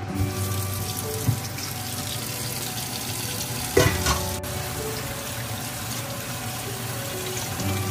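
Salmon steak being washed under running water at a kitchen sink, a steady broadband rush of flowing water with a couple of brief knocks and splashes, close and continuous with no talking.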